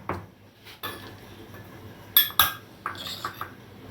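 Spice paste being scraped out of a grinder jar for a Rajasthani gwar fali sabzi in a home kitchen: soft scraping, then a few sharp metallic clinks and taps of spoon against steel, close and moderately loud.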